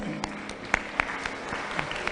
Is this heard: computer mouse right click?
no